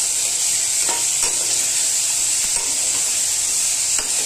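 Garlic, green chilli, coconut and peanuts fry in a pan with a loud, constant high sizzle, broken by a few faint stirring scrapes, no voices.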